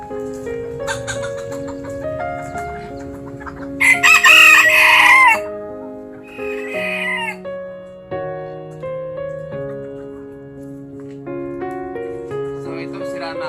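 Bonsai chickens cluck and a rooster gives a loud, close crow, with further clucking after it, all over a bed of sustained background music.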